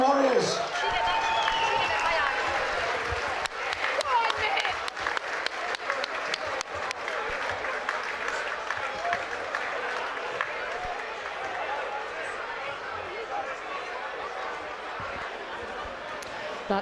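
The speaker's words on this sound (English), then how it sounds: "A round of applause for these two warriors." A boxing crowd applauds and cheers steadily at the end of the fifth round for the two fighters, the dense clapping continuing throughout with scattered shouts and a commentator's voice under the noise.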